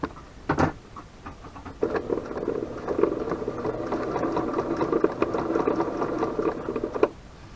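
A vintage Janome Memory Craft 6000 sewing machine stitching fabric: a quiet, steady, close running hum with fine rapid ticking that lasts about five seconds after a few brief clicks, alone without talk.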